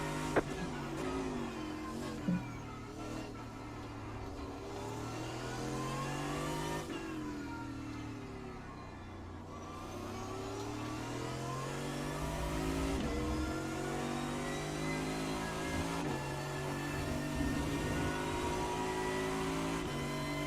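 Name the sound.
race car engines revving in a racing video game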